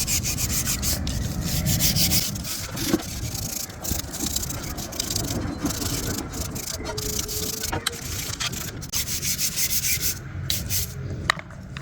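Rust is scrubbed off the fuel pipe of a 1979 Cadillac Seville with a rough, continuous rubbing and scraping, close and steady, with small knocks and pauses between strokes.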